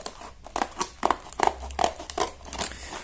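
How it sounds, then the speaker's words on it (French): Scissors snipping and crinkling through the plastic wrapper of a Disney TsumTsum squishy booster pack, a close series of sharp crackly cuts and rustles in an uneven rhythm, with no voices. "on va ouvrir ce petit booster. Alors, j'ai pris les ciseaux."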